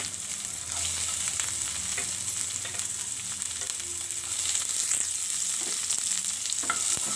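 Onion and green chillies fry with cinnamon, cardamom and a bay leaf in a pan, making a loud, continuous close-up sizzle with a few faint scrapes of stirring and no voices.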